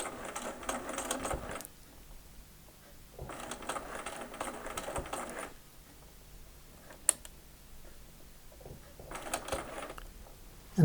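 A sewing machine stitches an eight-point star quilt block in three separate bursts of rapid, even needle clatter, with quiet pauses and a sharp click between them.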